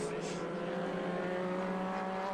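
Alfa Romeo and BMW vintage race cars racing at Atlanta: a steady, distant engine drone with sustained tonal harmonics, heard at moderate, even loudness without distinct passes.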